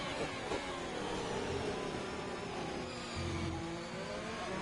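Race car in a racing video game rounding the final corner of a lap at Belgium, engine droning and shifting pitch with tyre noise, steady and continuous throughout.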